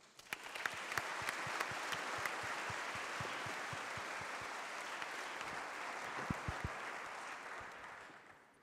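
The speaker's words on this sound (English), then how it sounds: "give a big round of applause to Abdur Rahman" An audience at an economics lecture applauds a speaker as he is introduced, a steady, fairly quiet wash of clapping from many hands that carries on for several seconds and then tapers off.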